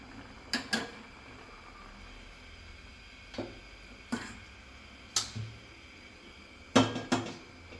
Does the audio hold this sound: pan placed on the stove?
yes